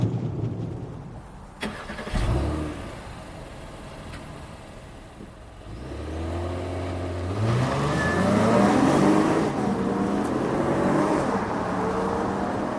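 A 2025 Acura MDX starts up and then accelerates hard, its engine note rising through the gears in a series of climbing sweeps, loud and close with no talk.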